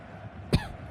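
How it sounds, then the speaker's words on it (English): A single sharp cough bursts close to the microphone during live commentary of a VFL World Cup group-stage football match, then quiet room noise returns. "Cough in your ear, it's fine."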